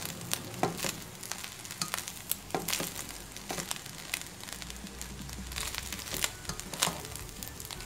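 Fried rice with spinach and zucchini sizzles steadily in a hot pan, loud and close. A continuous hiss is broken by crackling pops and scraping stirs, with no talking.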